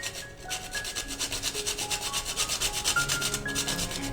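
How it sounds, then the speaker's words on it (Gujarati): A quarter of a nutmeg grated by hand over a plate of roasted spices for Indori poha: a steady rhythmic rasping scrape, close and fairly loud, repeating in quick strokes with no voices. "અને ત્યારબાદ આપણે તેમાં 1/4 જાયફળને ખમણીને એડ કરી દઈશું"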